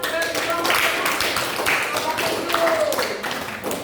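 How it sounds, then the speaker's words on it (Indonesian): A school class claps after a group presents its conclusions, with dense, continuous hand claps filling the room and children's voices mixed in throughout. "Jadi silakan tepuk tangan."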